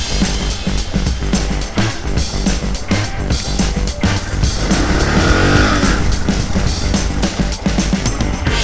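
Suzuki GS850 scrambler motorcycle riding a rough offroad trail, its engine droning loud and close throughout with rising and falling revs, plus gravel crunch and wind noise.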